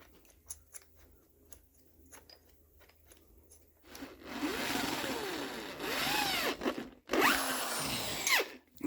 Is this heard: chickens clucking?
no